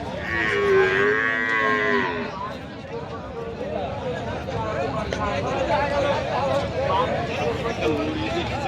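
Cows and buffaloes low at the Rajshahi City cattle market, one loud, near drawn-out moo opening the scene before fading into a steady hubbub of crowd chatter and other animal sounds.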